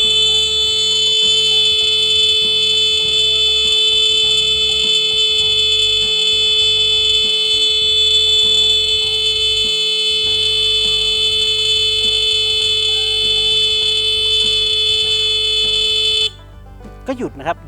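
An electronic scarecrow's sensor alarm: a loud, continuous electronic tone sounds steadily for a long stretch, then cuts off abruptly, followed by a few faint clicks.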